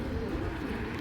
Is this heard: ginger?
no